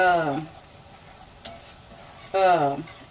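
Gravy stirred in a hot pan, with two short bursts of stirring scrapes and a quick clink between them over a soft, steady sizzle.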